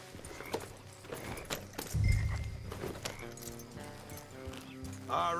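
A horse's hooves clip-clop and jingle with tack in Red Dead Redemption 2, a steady rhythmic gait under background music, moderately close. Voices speak over it, and a brief heavy thump comes midway.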